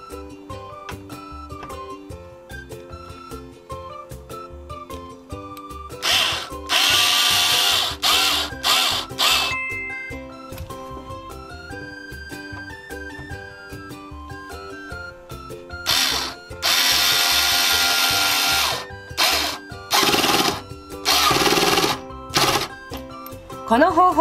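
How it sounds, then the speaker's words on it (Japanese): An electric screwdriver driving screws, with several loud bursts of motor whir and ratcheting alternating with pauses over background music. "ネジを締めていくんですが、イメージとしては回転させようとするのではなく、ネジにビットを押し付けるイメージでやっていってください。"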